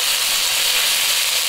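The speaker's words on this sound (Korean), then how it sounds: "이제 팬에 기름 두르고 양파랑 베이컨 많이 넣고 볶다가" Onion and bacon frying in an oiled pan, a loud continuous hiss of sizzling that holds evenly through the short moment, close up and with no voices.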